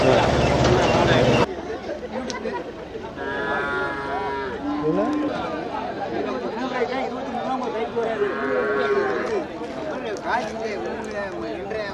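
A busy native cattle market at Devakottai, with milling animals, shuffling hooves and occasional moos under constant crowd chatter and people talking nearby.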